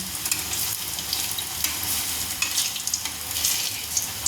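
Onion fritters (piyaji) bubble in hot oil, a dense continuous sizzle with small pops and a few stirring touches, close and fairly loud.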